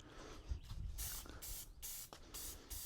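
Several short hissing bursts from a Fusion spray paint can being sprayed onto a part, each lasting a fraction of a second with pauses between, close and faint.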